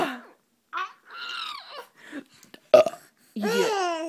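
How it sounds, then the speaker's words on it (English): A baby lets out a short burp among bursts of giggling and babbling, close and clear, with brief pauses of silence between the sounds. "Wanna burp?"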